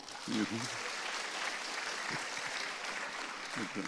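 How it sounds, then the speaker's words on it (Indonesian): An audience claps at an Indonesian event honoring Minister Maman. The applause is a steady, dense wash that fills the whole stretch, with a few short voices breaking through. "Boleh tepuk tangannya?"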